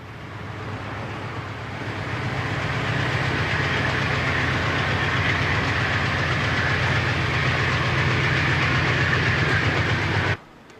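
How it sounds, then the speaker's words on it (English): An NJ Transit U34CH diesel locomotive rumbles steadily as its train pulls into Upper Montclair Station at night, a loud, close engine drone with rail clatter that cuts off abruptly at the end. "the big U-boat pulls into Upper Montclair Station"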